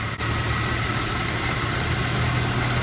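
A car engine fitted with a Weber carburetor idles steadily at about 1,200 RPM, a constant close-up hum with one brief dip at the start and no talking.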